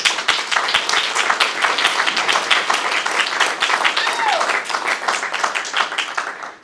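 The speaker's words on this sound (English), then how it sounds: "can we give a round of applause for Judge Bereola?" A crowd at a criminal justice reform event applauds Judge Bereola with dense, lively clapping that holds steady before tapering off, a few voices mixed in.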